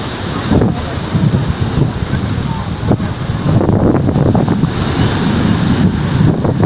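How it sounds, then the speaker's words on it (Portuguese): Surf rolling onto Boa Viagem beach in Recife, Pernambuco, on an overcast day: a loud, continuous wash of breaking waves mixed with heavy wind buffeting, with no talking. "Pessoal, aqui é a Praia de Boa Viagem, cidade de Recife"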